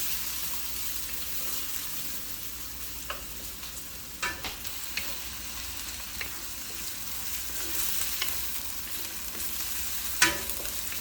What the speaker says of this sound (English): Keep stirring the vegetables, otherwise they will start burning.